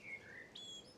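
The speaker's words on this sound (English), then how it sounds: "So blackbirds singing up there." Blackbird song in coastal woodland on the Isle of Wight, a few faint, thin melodic phrases in the distance over a soft hiss of ambient background, with no voices.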